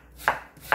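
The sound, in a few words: knife slicing half an onion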